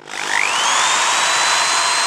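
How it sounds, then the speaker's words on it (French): An electric drill powered from an EcoFlow River 3+ portable power station spins up with a rising whine, then runs at a loud, steady high-pitched hum close by. "Je vais mettre à l'épreuve du feu, la perceuse."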